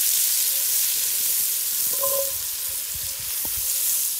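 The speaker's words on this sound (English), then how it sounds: "Once your onion starts to brown, you can add the celery." Onion and celery fry in a cast-iron potjie pot over a wood fire, giving a continuous soft sizzle with a few faint scrapes and clicks of stirring, and no one speaks.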